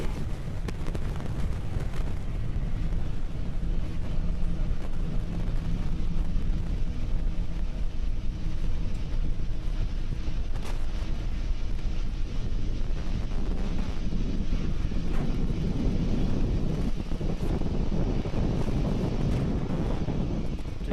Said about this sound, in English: We're currently throttling down the 9 Merlin 1D engines on the first stage, preparing for the period of maximum dynamic pressure and going supersonic